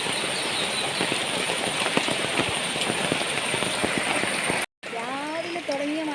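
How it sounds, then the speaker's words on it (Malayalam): Heavy monsoon rain pours down in a steady, dense hiss that fills the whole scene at close range, with a brief pause and a voice speaking over it near the end. "രാവിലെ തുടങ്ങിയ മഴയാണ് കേട്ടോ ഇത്."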